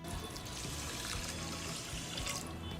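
Water pours steadily into a wok holding sugar, a continuous close splashing and gurgling stream while making syrup for a Bengali sweet.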